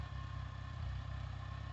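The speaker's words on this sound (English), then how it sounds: "I've got the tractor sitting over there idling" An idling tractor engine sits nearby, a faint, steady low chugging pulse that runs evenly throughout with no talk.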